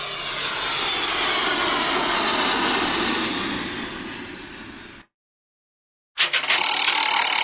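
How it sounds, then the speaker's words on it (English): An airplane's jet engine roars in a broad, loud, steady rush for about five seconds, fading slightly at the end before silence and a later burst of unrelated clattering. "Plane."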